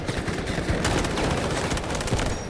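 SG552 rifle fire in the shooter game Delta Force, rapid automatic bursts that run continuously and loudly, close and dense with crackling shot transients.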